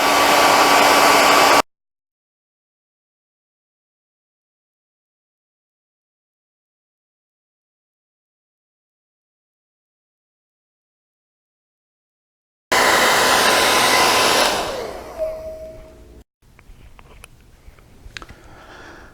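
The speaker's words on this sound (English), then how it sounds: "I've got this hairdryer. We're going to go ahead and give this a shot and see what it does here." A hair dryer blows debris off a table during a Talon grips job, with a loud steady roar in two bursts separated by a long silence; the second burst fades and clatters.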